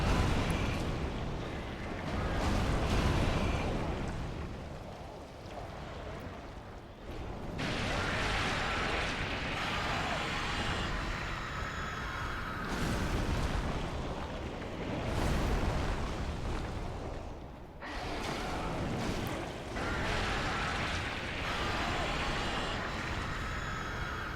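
Repeated heavy, rumbling blasts of thrown bombs from Dark Souls III surge and fade at a moderate distance, recurring several times under ongoing conversation.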